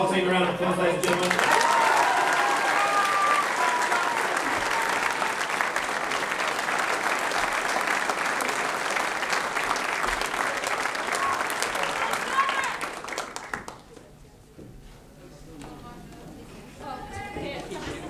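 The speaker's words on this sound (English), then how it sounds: "Give the whole team a round of applause, ladies and gentlemen." An audience at a school prize giving applauds loudly for about twelve seconds, dense sustained clapping filling the hall before it dies down to a quieter murmur.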